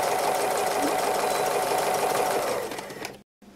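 A sewing machine hums steadily and close at high speed while free motion embroidery sews down fabric leaves, then slows and stops near the end.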